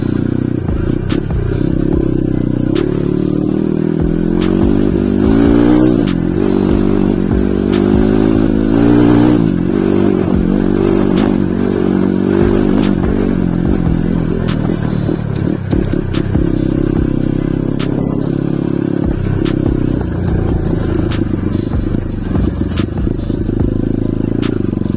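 A Kawasaki KLX 140RF motorcycle, bored up to 170cc with stock stroke and valves, revs loudly and close by, its engine pitch rising and falling repeatedly through sustained throttle blips.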